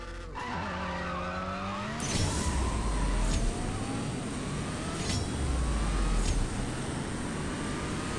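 A Lamborghini Sián FKP 37 races on a track in the CSR2 racing game: the engine revs and climbs, then roars steadily with a sharp tire squeal and several quick gear-shift bursts, loud and close.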